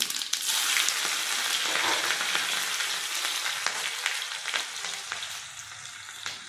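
Cumin seeds and finely chopped green chili frying in two spoons of hot oil, a close, dense crackling sizzle with scattered pops that slowly settles.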